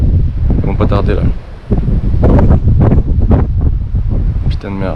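Strong wind blows straight into a microphone on an Australian beach, roaring and buffeting loudly throughout, while someone speaks over it.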